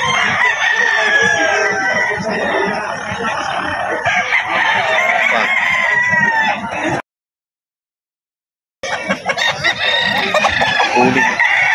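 A Bulik Sweater gamefowl rooster crows and clucks among other birds at the Bocaue pet market, loud and close with harsh, repeated calls, a brief silent gap midway, then more crowing.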